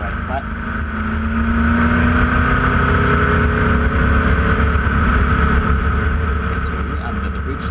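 From onboard a Formula Vee race car held flat out in a Queensland championship round, the engine roars loud and continuous, its pitch climbing slowly under heavy wind and mechanical rumble.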